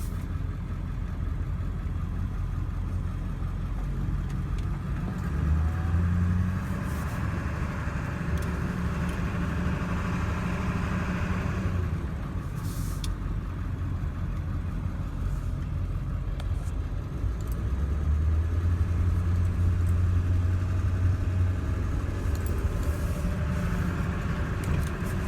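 A 2000 Ford F-350 dually truck with a 7.3 Powerstroke diesel drives along with a steady low engine rumble and road noise, the engine note swelling briefly as it accelerates.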